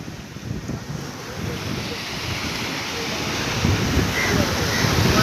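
Strong wind roars steadily over open sea aboard a small fishing boat, a loud continuous rush of gusting air and surf noise that slowly builds toward the end, with no voices.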